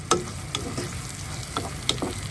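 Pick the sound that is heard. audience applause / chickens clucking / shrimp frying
shrimp frying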